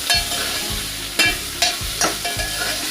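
Chopped tomatoes stirred into frying dal tadka, with a loud sizzle and a spoon scraping the pan in repeated strokes about every half second, close up with no voices.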